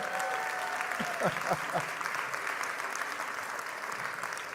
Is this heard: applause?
yes